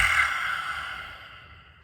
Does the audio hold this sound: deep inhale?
yes